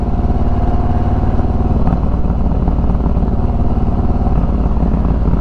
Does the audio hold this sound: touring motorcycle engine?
yes